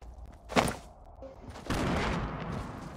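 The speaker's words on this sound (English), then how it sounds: "Why are you trying to shoot at me?" Gunfire in a video game, with a sharp shot near the half-second mark followed by a sustained, loud burst of shooting over the last second and a half, no talk.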